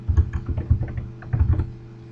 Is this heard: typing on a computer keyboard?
yes